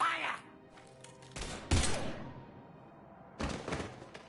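Gunfire in the Mass Effect 3 video game during the retaking of Omega: two loud bursts of rapid shots separated by quieter thumps and a lull, close and punchy against a low ambient hum.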